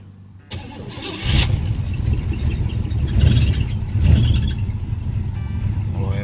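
A 1986 Oldsmobile Cutlass four-door with an unadjusted carburetor cranks and catches, then runs with a steady, slightly uneven engine rumble, loud and close, with small swells in revs.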